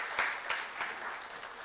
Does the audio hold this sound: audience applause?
yes